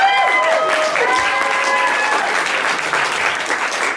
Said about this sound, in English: please give Forbes a round of applause